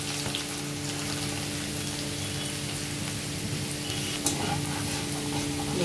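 Chopped garlic fries in hot oil for chilli chicken with a steady, even sizzle that stays fairly soft throughout, with a faint clink near the end.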